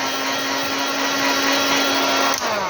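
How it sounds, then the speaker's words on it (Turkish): A heat gun or hair dryer blows hot air steadily during a GM5 Plus phone button film replacement, a loud, constant airy whoosh with a steady motor hum and no break. "Bir ısıtıcı cihaz ya da bir fön makinesi."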